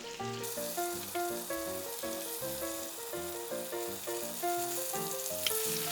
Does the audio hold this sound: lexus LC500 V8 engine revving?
no